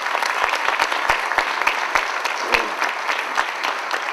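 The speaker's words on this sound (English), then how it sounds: "I want to applaud Senator Lemieux" Audience at a political victory gala breaks into steady applause, a dense, close wash of many hands clapping continuously for several seconds with no speech over it.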